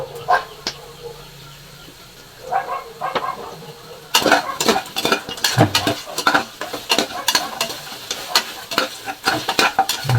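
Sautéing in a little oil in a pot for pork ribs sinigang: bursts of sizzling mixed with repeated metal utensil scrapes and clanks against the pan, loud and close, busier in the second half.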